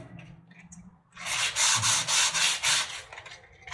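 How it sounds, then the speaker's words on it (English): Hand sanding of a wooden front door being resurfaced: after a quiet start, a run of loud, rhythmic abrasive strokes sweeps back and forth for a few seconds, close up with no talking. "trying to sand certain areas, but if you're patient, you're gonna get it done"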